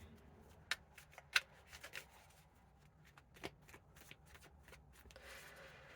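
Light Seer's tarot cards shuffled by hand: soft, quiet riffling and flicks with a few sharper card snaps, close but faint, with no speech.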